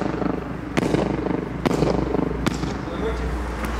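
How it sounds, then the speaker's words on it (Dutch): Three sharp firecracker bangs go off at a steady pace outdoors, each a crisp broadband crack, against a background of murmuring voices and low rumble. "En een rotje, nou, dat was al een rotje."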